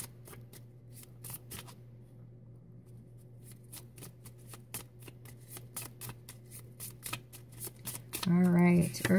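Tarot cards shuffled by hand during a love reading, a long run of rapid crisp riffling flutters that stay close and fairly even, then a brief voice near the end.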